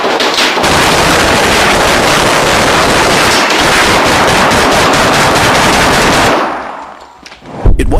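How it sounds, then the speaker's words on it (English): A suspect's sustained gunfire at police during a standoff makes a loud, dense, continuous rattle of rapid shots for about six seconds, then drops away to quieter background noise with a brief final burst. "suspect's relentless gunfire left the officers unable to breach his door without risking being shot"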